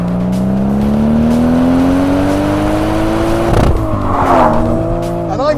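A 1994 Toyota Mark IV A80 Supra engine revs up in one long rising pull, loud and close, then drops off sharply into a short burst of tire and mechanical noise.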